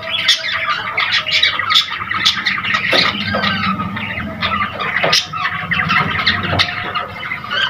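Three Australian parrot chicks squawk and squeal loudly and without letup, their harsh, overlapping calls coming from close by in a rapid, busy chatter.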